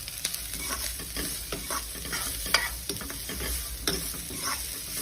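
Vegetable filling for spring rolls, seasoned with salt and black pepper, is stirred in a hot pan, giving repeated scraping strokes over a continuous sizzle.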